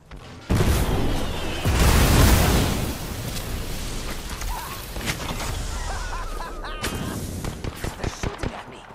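A grenade blast in an online shooter game: a loud, deep boom followed by rumbling gunfire and battle noise, with players talking over the action.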